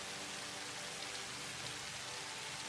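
Steady rainfall in the Satisfactory video game, a dense continuous hiss of rain with no breaks, loud and even throughout, with no talking over it.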